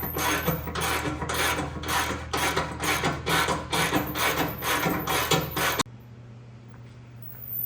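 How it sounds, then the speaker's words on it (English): A ratchet wrench turns bolts while a broken spring on a Boss V snowplow is fixed, giving a fast series of rhythmic rasping clicks before stopping abruptly, leaving quiet background hum. "Alright, so I got a ratchet, make things a little bit easier."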